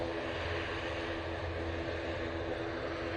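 A TUI Boeing 787-9 Dreamliner airliner passing at Manchester Airport, a steady broad jet roar with low rumble, constant and fairly loud.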